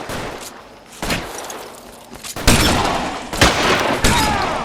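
Gunfire during a shootout in the video game L.A. Noire: repeated sharp shots and bursts, loud and close, several heavy reports standing out between stretches of quieter crackling fire.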